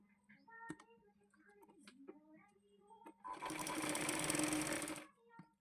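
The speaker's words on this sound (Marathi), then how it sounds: "ह्याच्यावरनं आता शिलाई मारून घ्यायची" Sewing machine running a seam on a katori blouse, a dense burst of rapid stitching lasting under two seconds after a few quiet handling clicks, close and clear.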